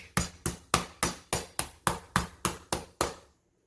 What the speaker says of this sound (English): Take a mallet and we're gonna pound it out.